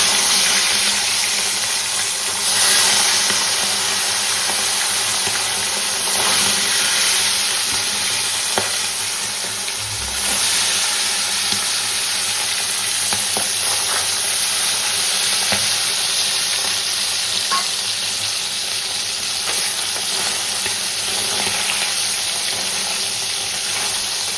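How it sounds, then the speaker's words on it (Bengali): Tangra fish frying in hot oil in a wok, with a steady, loud, close sizzle throughout and occasional stirring scrapes and clinks over it. "কড়াইতে তেল গরম হয়ে গেছে, ট্যাংরা মাছগুলো ছেড়ে দিই"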